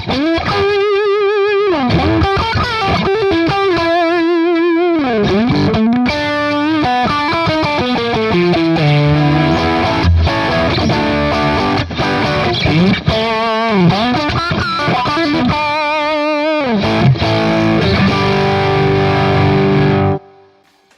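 Heavily distorted electric guitar through a TC Electronic Dark Matter distortion pedal at full treble, playing a run of notes and chords with a bright, buzzing treble edge, loud and continuous until a sudden stop.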